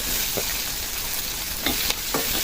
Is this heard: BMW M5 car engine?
no